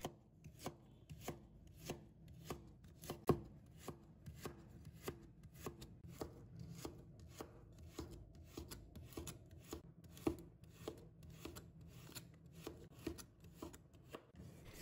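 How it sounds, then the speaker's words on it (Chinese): Steady rhythmic chopping of a knife cutting a peeled carrot on a cutting board, sliced at an angle into pieces and then thin slices, with quick evenly spaced close taps running throughout and no talking. "再准备1根去皮的胡萝卜，用斜刀把它切成小段"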